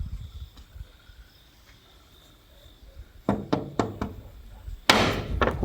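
Heavy banging on a room's door, as if someone were trying to break it in. A quiet stretch with faint insect chirping gives way to a run of hard, close thumps, ending in a loud crashing blow.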